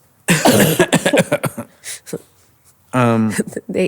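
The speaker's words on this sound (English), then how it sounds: "I need a coughing break." Someone coughs in a quick burst of several harsh, close coughs, followed by a voice talking.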